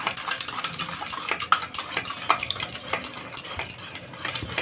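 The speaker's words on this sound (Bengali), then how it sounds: "মিশ্রণটাকে আমি সুন্দর করে নাড়িয়ে নেব।" A spoon stirs a chotpoti sour sauce mixture of tamarind-style tang and sugar in a bowl, scraping and clinking in a quick, steady rhythm of close metallic taps.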